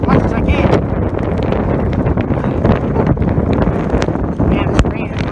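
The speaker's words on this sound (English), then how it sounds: "It's really windy" Strong, rainy wind at the USS Lexington in Corpus Christi, Texas, roars steadily and loudly across the microphone with gusty crackles and buffeting, while a voice speaks faintly underneath.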